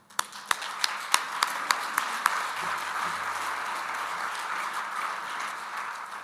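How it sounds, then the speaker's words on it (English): Conference audience applause in a meeting room, several sharp individual claps at the start that quickly merge into a steady, moderately loud ripple of many hands clapping, carrying on to the end with no talking. "So just one last round of applause for them."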